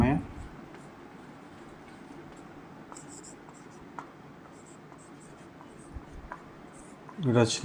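A teacher writes notes during a geography lesson on the structure of the Earth's crust, with soft continuous scratching of the writing tool under quiet room noise and a few light taps.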